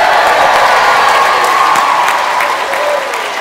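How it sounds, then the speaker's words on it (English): A young classroom orchestra and its audience burst into loud, sustained clapping and cheering, with whoops and raised voices over the applause before it thins slightly toward the end. "let's have an even bigger cheer from the orchestra as well"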